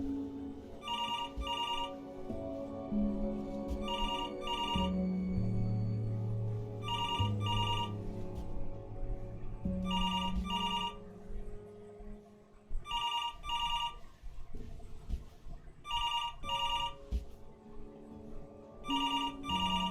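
Telephone ringing in the video game Before Your Eyes, repeated bursts of a bright electronic ring in regular pairs over a soft, low musical score, fairly quiet throughout.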